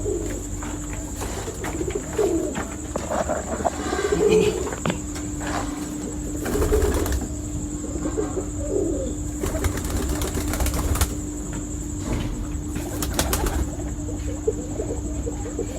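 Pet pigeons cooing close by in a loft, repeated low rolling coos with occasional wing flaps and rustling against a steady background hum.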